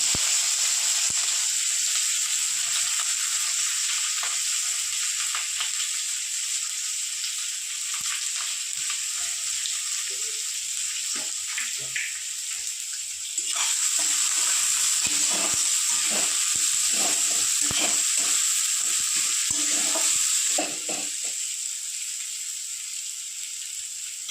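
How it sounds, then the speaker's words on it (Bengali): Chopped onion hits hot oil already seasoned with bay leaf, dried chilli, cloves, cinnamon and cardamom, giving a loud, steady frying sizzle with scattered crackles and stirring scrapes throughout, brief spatter bursts toward the end, no talk. "এবার দিয়ে দেবো পেঁয়াজ কুচি"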